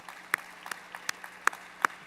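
A few people clap sparsely at a faculty convocation, about half a dozen sharp, separate claps spaced out over a quiet background, fairly faint and with no talking.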